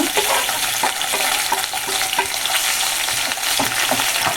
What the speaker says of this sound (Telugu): ఇప్పుడు నేను తరిగి పెట్టాను టమాటా వేస్తున్నాను